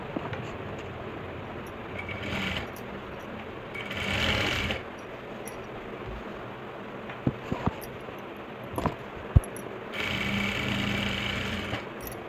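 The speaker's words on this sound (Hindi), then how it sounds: "तो टॉप सिलाई लगा देंगे।" A sewing machine top-stitches the waistband of an Afghani salwar in several rapid whirring bursts, separated by quieter pauses and a few sharp clicks and taps nearby.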